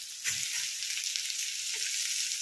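Potatoes sizzle and fry in hot oil in a pan, with bottle gourd going in alongside, a steady bright crackle with a soft stir or clink near the start and no talking.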